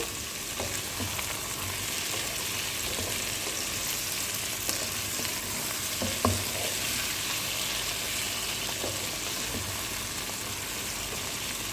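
Tomatoes and garlic fry in a pan, a soft, steady sizzle close by, broken by a few light taps and scrapes of stirring.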